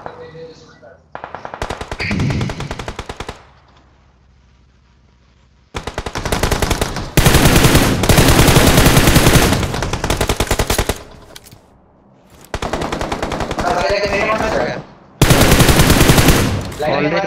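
Rapid automatic gunfire in a battle royale shooter game, loud bursts of sustained machine-gun fire separated by short pauses, with players talking over the action.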